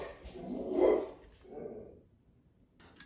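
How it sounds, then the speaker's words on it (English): A dog barks a few times, muffled and fairly faint, with the loudest bark near the start and softer ones trailing off. "sorry, my dog went crazy"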